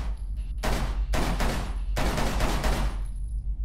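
Hip-fired gunfire at targets in the shooter Scourge: Outbreak, three sharp rapid bursts of automatic shots with brief gaps between them, loud and close, the last burst longest before fading out.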